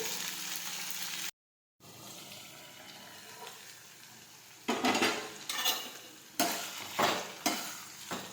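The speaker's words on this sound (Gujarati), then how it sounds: "હવે આપણે આ રીતે સાતળતા જઈશું." Spiny gourd (kantola) sautés in a pan with a low sizzle, then loud rhythmic scraping strokes of a spoon against the pan repeat about once a second in the second half.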